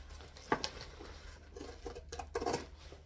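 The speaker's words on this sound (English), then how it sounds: "So I'm going to zigzag scissors in the curve part" Zigzag scissors snip into the curved edge of fabric for a beach bag sewing project, giving a few crisp, close cuts with soft handling noise between them.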